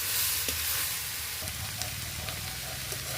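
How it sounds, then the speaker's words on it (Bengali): Potato greens and fried eggplant stir-frying in a pan, a steady close sizzle with occasional scrapes and clinks of a spatula stirring. "মিশিয়ে নিয়ে কিছুক্ষণ নাড়াচাড়া করে এটাকে নামিয়ে ফেলব।"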